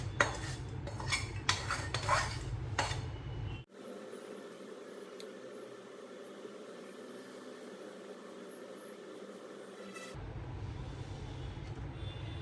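Roasted gram flour, milk and ghee being mixed into coarse wheat flour for churma ladoo in a metal bowl, with clinking, scraping utensil strokes up close and a low background hum that cuts out midway.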